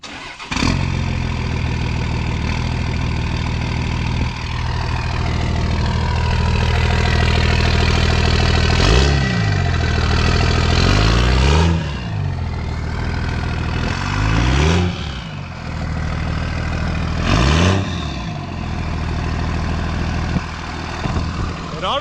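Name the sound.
Dodge truck 24V Cummins diesel engine idling, stock exhaust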